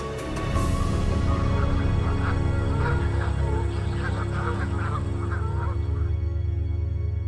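A flock of migrating Canada geese honks steadily, many calls overlapping in a continuous chorus with a constant low rumble beneath.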